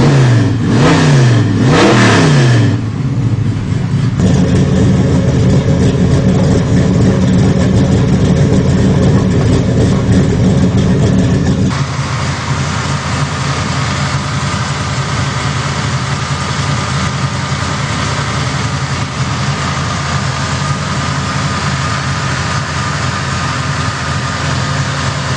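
A stock Impala muscle car with a 572 big-block engine, tach and six-speed, revs hard up close, loud and continuous with rising and falling surges before settling into a steady rumbling drone.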